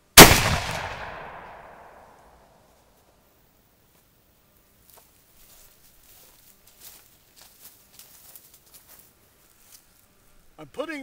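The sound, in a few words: Nepalese Brunswick rifle gunshot with big game load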